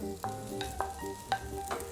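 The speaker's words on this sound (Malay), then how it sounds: "Alright, jadi sekarang kita masukkan nasi lemak kita." A pan of leftover nasi lemak rice being fried, with quick scraping stirs and clinks of the spatula sounding every half second or so over a soft sizzle and steady background music.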